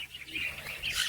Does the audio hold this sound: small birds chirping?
yes